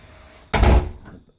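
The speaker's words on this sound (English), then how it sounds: "You come in the front door" An apartment front door in a tourist hotel swings open with a single heavy, close thud that quickly dies away.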